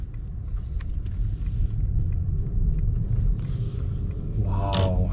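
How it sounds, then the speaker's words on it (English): A 2022 Mercedes-Maybach S580 with a V8 engine pulls away, giving a steady, close low rumble with a faint mechanical whir above it and a small rise near the end. "So driving off here."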